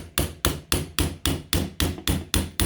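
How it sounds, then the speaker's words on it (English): The polymer face of a hammer taps sharply on a pistol sight to drift it into place on a Ruger LC9s, ten crisp evenly spaced strikes, close and loud, with no voices. "I'm going to start with the polymer side of the hammer"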